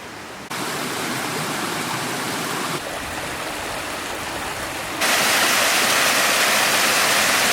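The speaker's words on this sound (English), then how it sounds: "Past the beautiful little waterfalls there." Steady rushing of a small mountain waterfall and spring-fed stream in the Peak District, broadband and close, growing louder in steps as it nears the cascade, with no voices.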